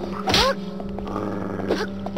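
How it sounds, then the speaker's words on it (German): A dog in the Fragile Dreams video game gives two short, sharp yelps about a second apart. They sit over a steady, low game-ambience hum. "Und ich höre schon wieder einen Hund."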